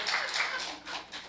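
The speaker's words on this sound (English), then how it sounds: "Give him a big round of applause." A church congregation applauds a contestant at a sermon-themed game show, with soft, blurred clapping that rises, dips and swells again over a brief moment.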